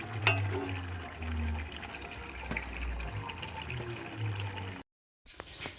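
A little water poured into chicken curry cooking in a pot, a soft steady splashing and trickle up close, ending in a short silence.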